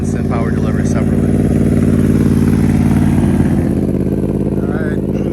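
A 2021 Yamaha R1 sport motorcycle engine runs steadily nearby, a loud, continuous droning hum, with voices faintly audible over it.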